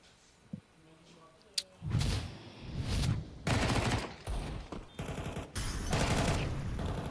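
Rapid bursts of rifle fire from a Counter-Strike match at a major esports tournament, loud repeated volleys over several seconds with commentators talking over them.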